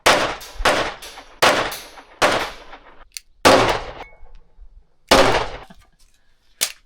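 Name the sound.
gunshots from a rifle at a gun range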